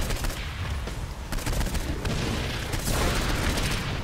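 Gunfire from an RPG and an SMG in the video game Saints Row 4, a dense, loud barrage of rapid shots and booming blasts that pounds on without a break.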